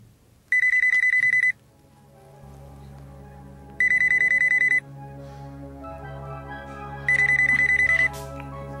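A phone ringtone rings in three loud, bright bursts about a second long each, with steady background music underneath.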